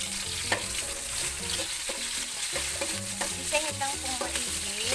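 Garlic frying in a pan for a Filipino petchay and galunggong dish, a dense continuous sizzle with scattered stirring clinks and scrapes, close and steady.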